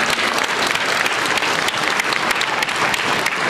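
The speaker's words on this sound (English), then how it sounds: "let's have a nice round of applause for Jonah Cohen." Dense, steady applause from a conference audience at a live science demonstration hour, loud and continuous throughout without any voices.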